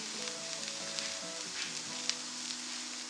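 Coriander powder and garam masala roast in a pan for a Thalassery kalmas filling, giving a soft, steady sizzle under quiet background music, with a few small clicks from stirring.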